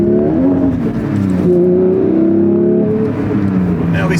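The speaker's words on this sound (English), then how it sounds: "Now it's starting to flurry out, so we're driving a brand new GT3 in the snow" A brand new Porsche 992 GT3 engine wails loudly while spinning donuts in snow, its pitch rising and falling in sustained revs from close by, with a faint voice underneath.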